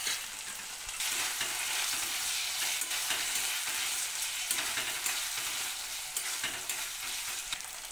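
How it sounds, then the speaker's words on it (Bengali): Tomatoes and ginger-onion paste fry in a pan for a Bengali chicken kosha, giving a dense, continuous close sizzle with faint scraping from stirring throughout. "এখানে আমি আদা পেঁয়াজ পেস্ট করে রেখেছিলাম, সেটা এটার মধ্যে দিয়ে ভালো করে ভেজে নিচ্ছি"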